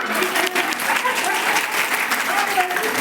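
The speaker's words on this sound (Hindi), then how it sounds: "आज दीदी के लिए जोरदार तालियां।" Loud, dense applause from a school audience at a Saraswati Shishu Mandir event, honouring a girl who has just spoken, a steady sustained roar of clapping with a faint voice underneath.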